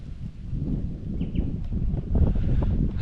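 Gusty wind buffets the microphone at a high-elevation campsite on a fresh morning, a steady low roar with faint rustling and no speech.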